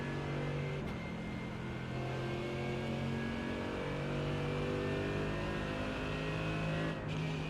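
Mercedes AMG GT3 race car in iRacing at Monza, its engine accelerating up through the gears: a loud, sustained rising engine note with brief drops at gear changes, heard alone.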